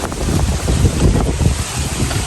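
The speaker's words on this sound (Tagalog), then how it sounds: "Oh, lakas ng hangin." Strong wind roars and buffets the microphone continuously, a loud, dense rumble with no voices.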